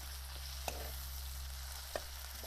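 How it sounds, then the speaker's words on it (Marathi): Chopped onion frying in oil in a pan while being cooked until reddish-brown, a steady close sizzle with two brief scrape or stir knocks, no talking. "तर आता मी चांगला कांदा परतवून घेतो हे पहा"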